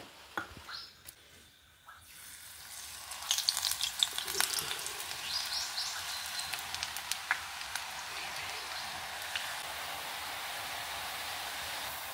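Ribbon pakoda dough is pressed into hot oil and starts frying, a soft crackle that swells after a quiet start and settles into a steady, moderately faint sizzle with scattered pops.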